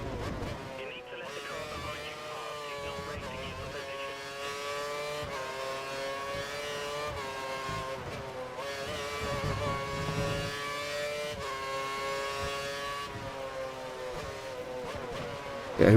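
Formula One race cars in the F1 2013 video game at the Spanish Grand Prix, a steady high-pitched engine whine with rising and falling pitch as cars pass, heard under continuous talk.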